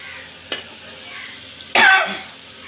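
Masala stirred and fried in oil until the oil separates, in a Bengali dish of taro leaves with dried fish: soft frying hiss broken by a sharp scrape at the start and a louder spatula scrape near the end.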